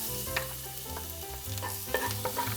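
Garlic sautéing in avocado oil for a Filipino braised pork trotter humba, a close, steady sizzle with clinks and scrapes of stirring, no talking.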